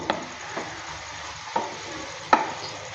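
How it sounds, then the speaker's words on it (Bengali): Cabbage and potatoes fry in a pan with a soft, constant sizzle, broken by a few scattered stirring scrapes from a spatula, close and fairly quiet with no voices. "এভাবে করে কিছুক্ষণ সময় নিয়ে ভালো করে নেড়ে চেড়ে নিয়ে ভেজে নেব"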